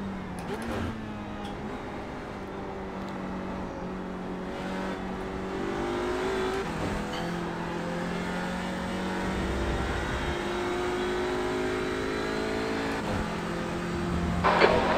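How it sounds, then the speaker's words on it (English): Race cars in the iRacing game during an IMSA Michelin Pilot Challenge race: a steady engine drone with rising revs and shifts, as other cars roar past close by and tires squeal briefly, with faint talk underneath. "Faster cars behind me here."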